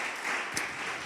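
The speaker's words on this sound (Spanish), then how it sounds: "Vamos a darle un fuerte aplauso al Señor" A church congregation gives a short burst of steady applause during a sermon, a dense, even clapping wash lasting about a second with no speech over it.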